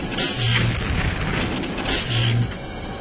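Explosions of torpedoes blown up in the video game Terror From The Deep: loud, continuous rumbling booms across the whole span, with two heavier low thuds standing out early and late.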